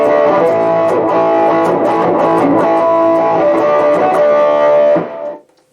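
An electric guitar played through the Terra Echo patch of a Boss GT-100 effects processor rings out as a loud, sustained, echo-laden chord for about five seconds, then cuts off into a short decaying tail.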